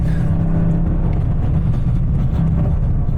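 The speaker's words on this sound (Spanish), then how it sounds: "En modo normal sí se nota bastante suspirador el coche." A 2021 Toyota GR Yaris in normal mode, heard from inside while being driven hard, gives a loud, continuous low engine drone with a constant road rumble.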